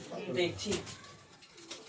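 Pigeons inside a pigeon loft give a couple of soft, low cooing calls close by, fairly faint, with a person's voice mixed in.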